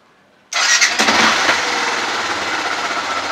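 A Yamaha Byson motorcycle engine fires up abruptly and settles into a steady, loud, close idle with a buzzing, even rumble and no talk over it.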